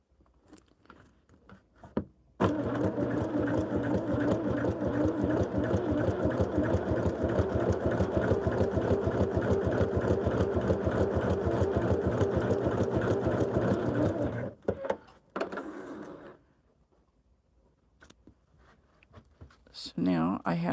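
Sewing machine stitching sweatshirt fabric, one long steady run of rapid close stitching lasting about twelve seconds, with a short final burst and quiet handling before and after.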